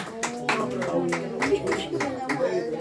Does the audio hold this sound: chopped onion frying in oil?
no